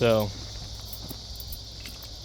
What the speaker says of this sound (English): I don't know if you guys can hear the cicadas in the background.